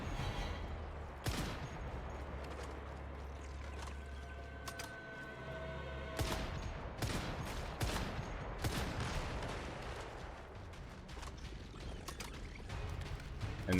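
Gunfire from a boss in the video game Once Human, bursts of rapid shots and sharp bangs over a low rumbling game mix, fairly faint and steady throughout with no talking.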